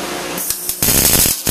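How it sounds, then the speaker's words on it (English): Steel 5/8-inch bolts are welded on as adjustable feet for an LED log light, giving a loud, steady crackling hiss that starts and stops in short bursts. "Then weld them up."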